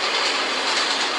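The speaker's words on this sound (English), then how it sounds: "Okay, that's just a train, isn't it?" A passing train with a steady rumbling clatter of wheels on rails, loud and continuous throughout, with no speech over it.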